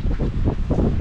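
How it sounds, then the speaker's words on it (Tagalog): Strong wind by the sea where big waves roll in, roaring and buffeting the microphone in steady gusts with low surf-like surges, loud and close, no talking. "Rinig mo yung mga idol. Yung hangin."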